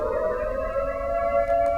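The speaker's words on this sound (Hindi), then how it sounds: "ईरान के हमलों के बाद यरूशलेम में सायरन बजे हैं।" An air raid siren sounding in Jerusalem after Iranian missile attacks: a steady, sustained wailing tone, loud and continuous, with no voices.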